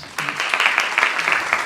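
Brief burst of audience applause for school geography olympiad participants, a small group clapping close and lively, rising suddenly after a short pause and continuing steadily.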